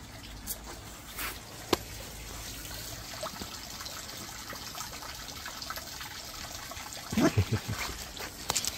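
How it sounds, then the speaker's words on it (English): Water trickles steadily into a garden pond being filled, a faint continuous wash with a few louder splashes and knocks near the end, no talking. "So, while this is filling up, do a little video on the pump."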